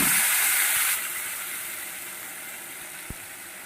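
Bay leaf fries in hot oil with a soft, close sizzle and hiss that quiets after about a second, followed by a brief faint clink as tomato and ginger-cumin paste go in.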